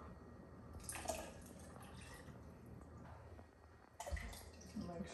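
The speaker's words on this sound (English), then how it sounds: "Now I'm gonna add both coconut milk." Thick coconut milk poured into a coquito mixture, a soft continuous liquid pour with brief splashy bursts, close and fairly quiet.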